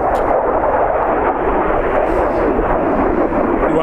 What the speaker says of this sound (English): there's a jet coming across there